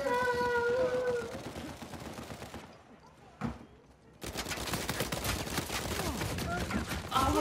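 Gunfire from the video game Uncharted 4: dense bursts of rapid shots fill the clip, broken by a short quiet stretch with a single sharp report, then continuous loud firing resumes.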